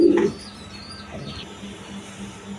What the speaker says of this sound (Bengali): এক পেয়ার সবুজ গলা কবুতর আছে, হাই ফ্লাইং গিরিবাজ কবুতর